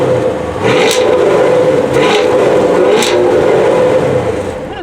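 A 2021/2022 Chevrolet Camaro 1SS with dual exhaust revs up close: a loud, sustained engine drone with three sharp throttle blips standing out over the steady rumble, no talk.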